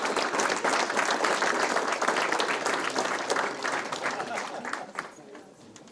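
Audience applause at a credit union's annual meeting, a dense, sustained round of clapping from a large crowd that holds steady for several seconds, then thins and tapers off near the end.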